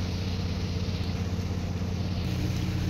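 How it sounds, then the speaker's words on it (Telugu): Engine cooling water pours steadily out of a ship's hull at a floating dockyard in Dakar, Senegal, a loud, constant rushing gush heard up close with no break. "ఈ వాటర్ ఇలా పడుతుంది కదా, ఇది కూలింగ్ వాటర్ అనమాట"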